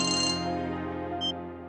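Phone ringtone for an incoming call at night, a bright electronic ring that is loud at first, then fades under a steady hum with one short tonal blip near the end.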